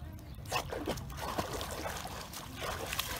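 A dog laps and drinks water outdoors on a summer day, wet trickling and sloshing sounds continuing close by in a steady irregular rhythm under intermittent talk.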